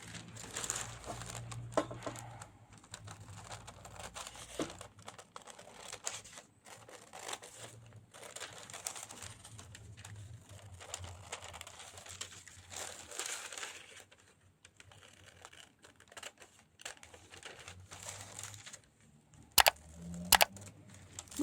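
Scissors cut through a paper sewing pattern for a strapless bodice, a steady run of crisp crinkling and snipping close by, with a couple of sharp louder snaps near the end.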